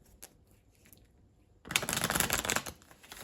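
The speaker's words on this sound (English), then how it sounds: "I don't know how many times I shuffled, so I'll just shuffle 2 more times." A quiet pause with a few faint ticks, then a burst of cards being riffle-shuffled, a fast close rattling flutter lasting over a second.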